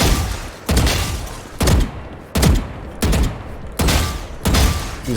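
Vandal rifle in Valorant fires in short, loud bursts, about seven separate volleys spaced roughly evenly with brief quiet gaps between them.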